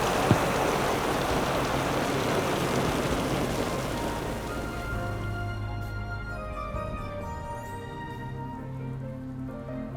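Heavy rain falls at midnight as a dense, steady hiss that fills the whole clip, then thins partway through while a soft tonal music bed rises beneath it.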